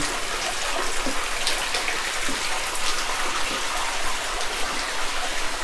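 Water from the Himatgiri waterfall on Jogimatti hill in Chitradurga, flowing from a stone Nandi's mouth and trickling down rock, a steady close splashing patter like rain, loud and continuous.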